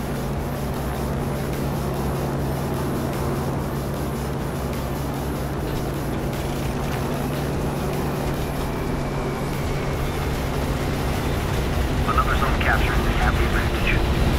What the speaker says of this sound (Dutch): Dit vliegtuig klinkt als een van de beste vliegtuigen